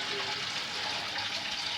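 Pale ale wort pours into a fermenter during home brewing, a continuous gushing, splashing liquid sound at close range, steady and moderately loud.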